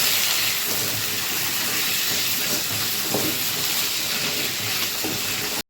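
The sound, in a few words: frying taro and potato with onion and spices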